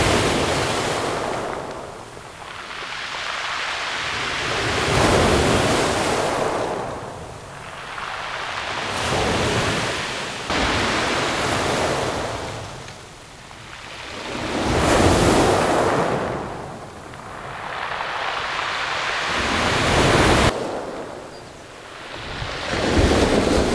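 Winter surf on a shingle beach during a big spring tide, with waves rolling in and breaking in slow repeating surges every five seconds or so, loud and close, with wind noise on the microphone and no voices.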